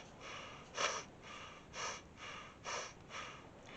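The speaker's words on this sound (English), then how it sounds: "breath of fire is just an equal exhale, equal inhale, equal exhale, just using their stomach" Kundalini yoga breath of fire, forceful nasal breathing pumped from the stomach: four or five evenly spaced, breathy puffs about a second apart, close and soft with no talking.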